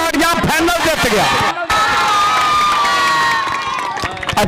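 A crowd at a village kabaddi tournament cheers and shouts loudly after the final is won, a dense roar of voices with children shouting, briefly dipping before swelling again.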